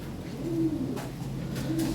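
Lahore Siraji fancy pigeons coo up close, two soft, low throaty coos separated by a short pause, with faint background noise.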